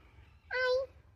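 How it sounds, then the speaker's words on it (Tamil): A single short, high meow from a cat sounds over quiet background noise. "மியாவ் கேட் நிறைய இருக்கு பத்தியா?"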